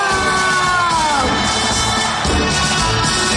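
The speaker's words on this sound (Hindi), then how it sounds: "तालियों की गड़गड़ाहट रुकनी चाहिए." A packed stadium crowd cheers, whoops and yells continuously at the opening ceremony of the World Para Athletics Championships in India, with loud sustained roar and a tone sweeping through the noise.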